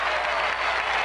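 A stadium crowd at a soccer match in Denver, Colorado applauds in a dense, steady wash of clapping and crowd noise lasting about a second.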